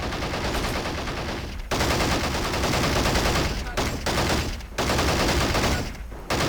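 A heavy machine gun in the Men of War Assault Squad 2 multiplayer battle fires long, loud, continuous bursts, broken by a few short pauses.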